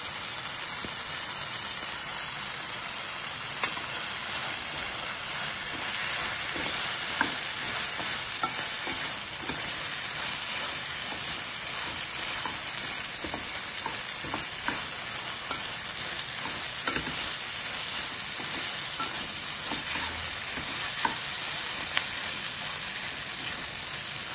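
Onions frying in a pan with gunpowder spice mix added for a South Indian breakfast dish, a steady close sizzle with frequent scraping stirs and light clicks throughout, alone without talk.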